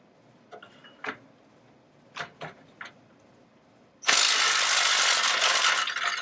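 A ratchet works a bolt loose on the front suspension of a 1962 Cadillac during disassembly. A few sharp, close clicks come first, then a sudden loud, harsh burst of sound runs to the end.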